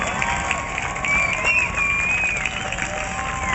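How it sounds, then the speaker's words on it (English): Outdoor crowd at a Light The Night cancer-survivor walk rises into cheering and applause, with a few high whistles over a steady, fairly loud wash of voices. "Big round of applause."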